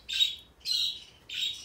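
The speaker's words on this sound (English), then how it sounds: "As you can hear, the birds are outside again and making commotion" Birds squawk outdoors in three loud, harsh bursts, each about half a second long with short gaps between, heard close by with no talking.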